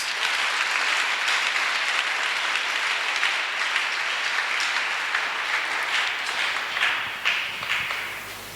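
A church congregation applauding during a worship service, dense sustained clapping from a crowd that holds steady for several seconds before thinning toward the end.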